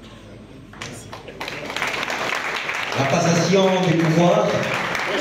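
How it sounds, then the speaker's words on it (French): Applause in an assembly hall during a formal transfer of power between outgoing and incoming bureaus, a diffuse wash of clapping building under someone speaking over a loudspeaker, growing louder and fuller toward the end. "Est-ce que nous pouvons continuer à applaudir"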